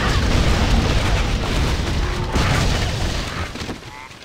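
Heavy booming cannon blasts in the video game Torchlight 2 roll out one after another, loud and rumbling, each decaying into a noisy tail.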